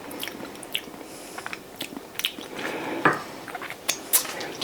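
Close biting and chewing of strawberry cake, with soft moist crunches and squishes in irregular bursts and a few faint clinks of cutlery or dishes, no talking.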